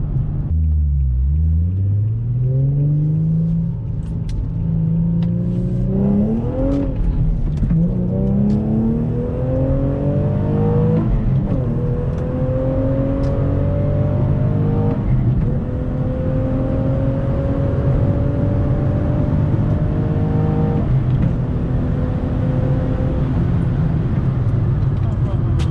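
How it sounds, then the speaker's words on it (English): An Infiniti G or Nissan Z with a manual transmission makes a wide open throttle pull. The engine note rises steadily through the gears, with rising tones that jump at each shift, over a loud continuous rumble, heard from inside the car. "I'll give you a wide open throttle pull."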